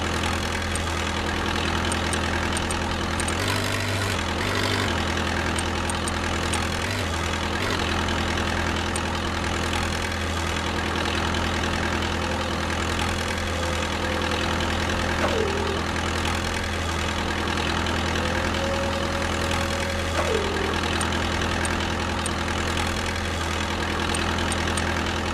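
A forklift engine idles with a steady, loud, continuous rumble and a faint rhythmic knock, joined by a couple of short high beeps partway through.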